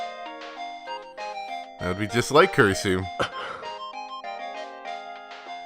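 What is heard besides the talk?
phone ringtone of incoming call from Kurisu, Steins;Gate 0 video game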